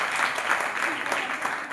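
An audience at a morning religious discourse claps in honour of the children, a short, even burst of moderate applause heard alone.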